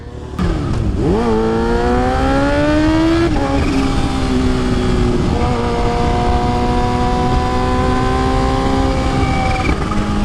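A Kawasaki Ninja H2 motorcycle revs hard during a wheelie, its loud, close engine note rising through the gears in several climbing sweeps over about ten seconds.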